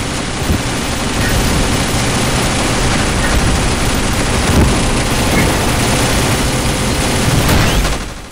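Dense, loud gunfire fills a Counter-Strike zombie escape match on a Crash Bandicoot map, a continuous roar of overlapping shots and booms sustained throughout.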